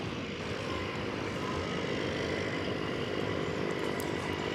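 A Delta Airbus A320 airliner waits for takeoff on runway 18 left at DFW Airport, giving off a steady, moderately distant jet engine rumble and hiss that holds evenly throughout.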